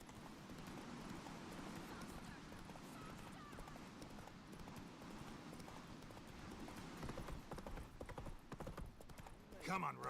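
Roach the horse gallops in The Witcher 3 with steady, soft rhythmic hoofbeats. Occasional voices and game sounds play over the hooves, and the sound grows slightly louder near the end.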